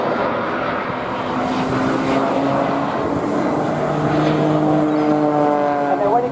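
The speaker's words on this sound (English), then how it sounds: "he'll now climb with full thrust of the engines and try and come to a halt at the top" A Red Arrows jet at an air show climbs at full engine thrust, a loud, sustained roar with rising tonal whine that grows more intense toward the end.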